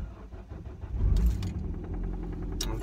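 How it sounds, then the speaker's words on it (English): A car engine cranks on a cold morning and struggles to catch, its rhythmic turning-over pulses rising into a brief rough rumble before settling into a steady low idle, heard close and alone. "Okay, car didn't really start then,"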